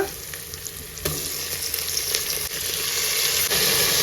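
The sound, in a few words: adding tomato to frying onions in a pan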